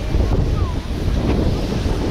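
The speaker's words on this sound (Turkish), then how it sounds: "Bugün biraz rüzgarlı evet ama keşke olmasaydı" Steady gusting wind buffets the microphone over a low rumble of surf at a beach, a continuous roaring wash with no clear pauses.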